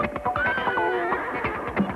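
A horse in an old 1980s cartoon whinnies in a short, wavering cry, fairly close, with some clattering noise underneath.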